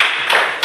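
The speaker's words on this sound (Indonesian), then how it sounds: "Tepuk tangan untuk si Mentari." A classroom of students claps for a classmate, a short burst of close, bright applause under a second long.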